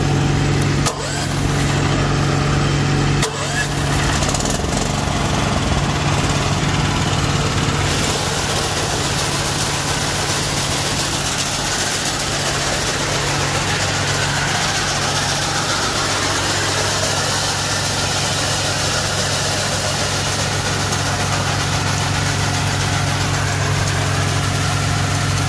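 A hammer mill runs with a steady, loud engine drone throughout, a constant low hum and broadband machine noise, like heavy equipment idling nearby.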